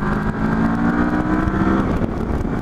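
Kawasaki Versys 1000 motorcycle engine droning steadily at close range during a ride, with a constant loud hum and slight wind rush throughout, no voices.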